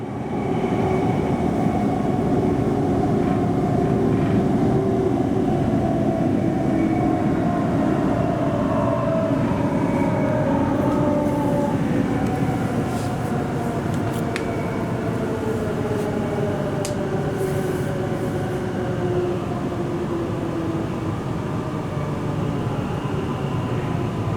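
A Melbourne HCMT suburban train runs between stations, a loud continuous rumble with rising and falling motor whine across the journey, no voices.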